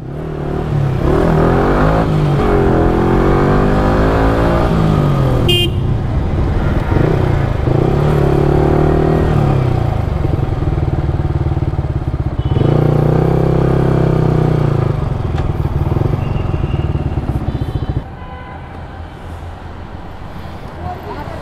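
A motorcycle with a rider and passenger goes by, its engine droning loud and steady with brief revving, under nearly continuous talking before the noise drops away near the end.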